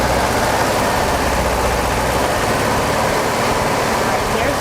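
Speedster car engine held at about 2,500 RPM, a loud, steady, close-up drone with low rumble and broadband mechanical noise throughout.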